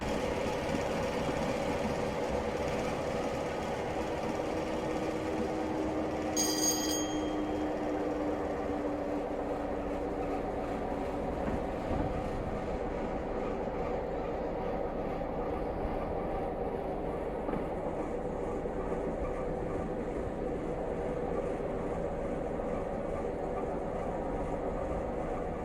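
Class 101 diesel multiple unit in Train Simulator Classic on the Glasgow Queen Street line at about 71 mph, a steady rumbling rail drone with rhythmic wheel noise and a brief high squeal early on.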